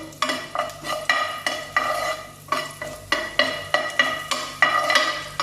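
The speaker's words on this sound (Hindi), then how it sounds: "अब इसे 1 मिनट तक इसको इस तरह से फ्राई करना है" Garlic frying in a pan with a utensil stirring through it, rhythmic scraping strokes about every half second over a sizzling background, loud and close.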